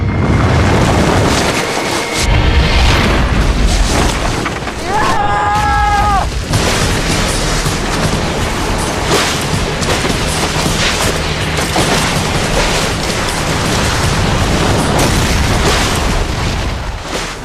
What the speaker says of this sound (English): explosions, boom.